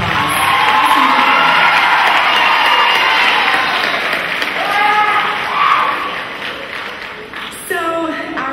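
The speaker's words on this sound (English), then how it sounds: "them a round of applause." Audience applause and cheering at a school student leadership symposium, a steady loud roar of clapping with whoops and shouts throughout, easing slightly near the end.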